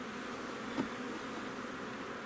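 A steady, dense buzzing of honeybees in flight around an opened hive fills the background, continuous and moderately loud, with a brief brighter swell as one passes close.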